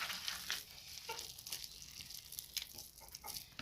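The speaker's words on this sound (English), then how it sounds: "So I'm mixing the ingredients." Kebab ingredients are stirred together in a bowl, giving a soft, wet, crackly mixing sound with small scraping clicks that repeat irregularly and quietly up close.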